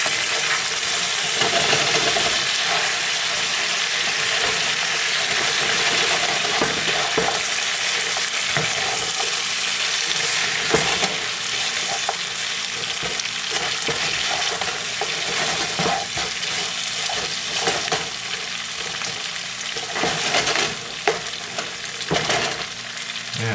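Spare ribs fry in a pan for sweet and sour ribs, a steady loud sizzle running throughout with occasional scrapes and clatters as the pieces are turned, no talking.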